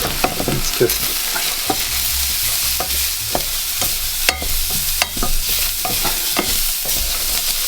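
Spices and tomato paste sizzle steadily in a hot pan while a utensil scrapes and stirs in irregular knocks and clicks, close up, with a brief spoken phrase, for a Mexican vegan tofu filo pie.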